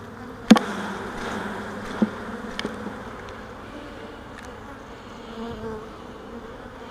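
Honey bees drone and buzz around an open hive during queen rearing with a Nicot system. The dense hum holds steady throughout, with a few sharp knocks and clicks from handling the frames.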